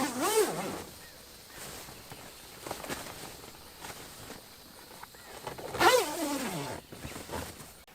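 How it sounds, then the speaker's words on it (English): Two hunting blinds being zipped together outdoors, with a couple of quick zipper pulls near the start and a louder one near the end, separated by quiet rustling and footsteps. "Now that I have the inner walls out, I can zip these 2 blinds together."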